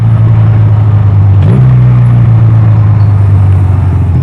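A Honda Rebel 250 motorcycle idles with a loud, steady engine hum, then gives a quick throttle blip during a rev-matching downshift before settling back to a steady drone.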